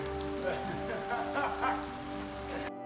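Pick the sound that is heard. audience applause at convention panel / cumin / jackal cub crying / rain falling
rain falling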